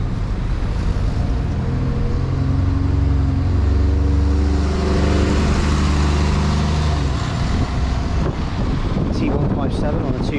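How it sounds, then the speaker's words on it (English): A Croydon E400 bus on route 250 to West Croydon pulls away from Thornton Heath, with a steady low engine drone building and layered under heavy wind buffeting on the microphone throughout. "just departing out is our bus, which you'll see in just a second"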